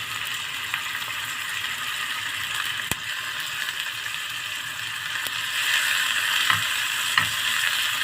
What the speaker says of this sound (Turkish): İlk önce biberlerimizi yağda gezdirip öldürüyoruz